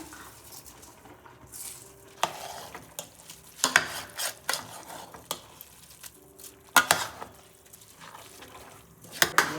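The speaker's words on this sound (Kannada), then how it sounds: "ಇದು 1 ನಿಮಿಷ ಅಕ್ಕಿನ ಹಿಂಗೆ ಡ್ರೈ ಆಗಿ ಉದ್ಕೊಳ್ಳಿ" Dry raw rice is dry-roasted for vegetable pulao in a metal pan, irregular scraping strokes and clinks of a spoon, close and uneven, with no talking.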